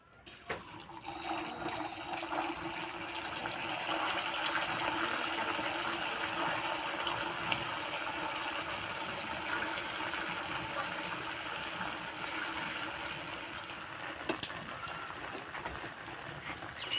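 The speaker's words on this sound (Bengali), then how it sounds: "এবার পিঠেগুলো ভেজে নেব।" Khejur pitha, sweet fried dough cakes, frying in hot oil in a kadai on a stove, a continuous soft bubbling hiss that holds steady, with a couple of faint clicks near the end.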